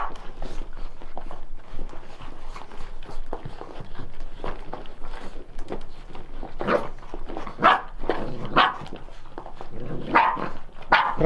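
Several rottweiler puppies growl and yip close by, bursts of small barks and rumbling snarls overlapping in an irregular, scrappy rhythm with faint shuffling.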